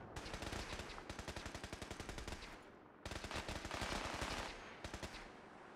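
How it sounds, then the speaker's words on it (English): Enemy gunfire in Fallout 4: rapid automatic bursts of evenly spaced shots, fairly loud, with a brief pause before another sustained volley and a short final burst, no voices. "I'd like to know what they're shooting at."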